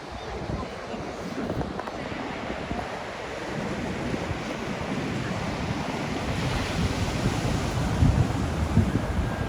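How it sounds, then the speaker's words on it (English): Waves wash onto a beach at the shore, a continuous broadband surf roar with wind buffeting the microphone, building slightly louder toward the end. "This is not the beach that we will come to all summer, but it's a beach."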